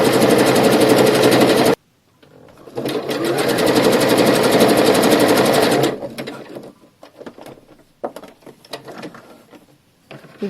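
A sewing machine runs fast and loud while stitching elastic onto panties, in two bursts split by a short pause, then falls to scattered soft clicks and fabric handling.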